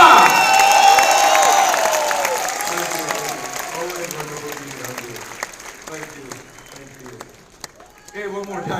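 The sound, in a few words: audience applause for Dr. Vivek Bindra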